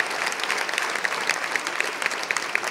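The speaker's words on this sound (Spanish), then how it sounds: "vamos a aplaudir a Esther, ¿eh?" Steady applause from a crowd at a fashion runway awards event, many hands clapping at once, continuous and fairly loud throughout.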